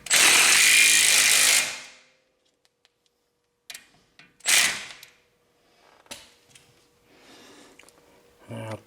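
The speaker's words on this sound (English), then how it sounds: "I'm going to tighten these down with the impact" Impact wrench briefly rattling as it tightens control arm bolts on a Volvo XC90, one loud dense burst followed by shorter intermittent bursts and small clanks from the workshop.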